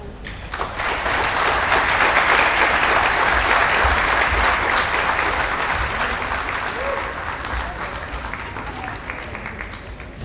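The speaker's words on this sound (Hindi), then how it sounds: "बहुत सारी तालियां होनी चाहिए।" Sustained audience applause for a dramatic stage performance, a dense, loud wash of clapping that swells quickly and then holds steady, easing slightly toward the end, with a faint voice briefly audible.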